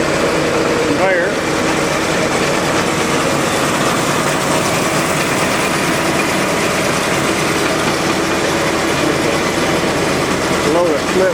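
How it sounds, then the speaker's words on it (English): A hydraulic motor drives the conveyor belt on a homemade wood splitter with log lift at a family farm, a steady loud engine-like drone running throughout the whole stretch with no break, with speech mixed into the noise. "got a hydraulic motor down here that controls the conveyor belt"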